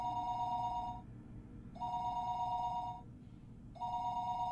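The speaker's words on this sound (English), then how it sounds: "listening to the dial tone" A telephone ringback tone repeats three times, each long electronic burr separated by a pause, steady and moderately loud over low background rumble.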